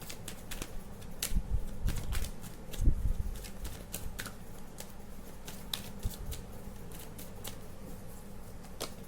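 Tarot cards being shuffled and drawn, a quiet run of crisp clicks and flicks with a few louder riffling bursts early on, heard close with no talking.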